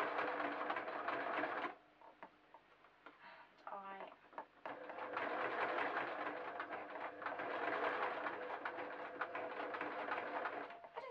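A domestic sewing machine stitches over the puckered dart of a fabric sheep door stop, giving a steady close whirring run, a brief pause, then a second longer continuous run.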